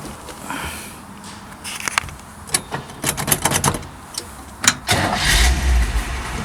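Original 1963 Chevrolet Impala V8 with a manual transmission cranking and catching, rapid starter clatter building into a fuller engine roar that settles into a close idle.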